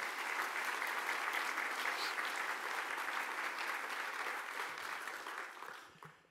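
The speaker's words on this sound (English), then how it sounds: "So they deserve a round of applause for everything that they do." Audience at an Irish America Business 100 keynote address giving a sustained round of applause, a dense, steady wash of clapping that holds evenly and then fades out at the end.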